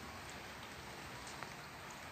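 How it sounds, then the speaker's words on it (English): Winter rain in the Goldfields of Victoria, Australia falls as a faint, steady hiss with scattered soft drop ticks, continuous and with no voices. "We all need shelter from this rain."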